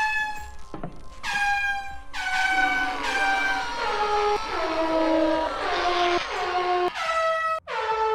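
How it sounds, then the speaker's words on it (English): An air horn in the video game Zort sounds in a string of long, blaring tonal blasts, loud and close, some overlapping and shifting pitch, with no talk. "Oh, so like air horn."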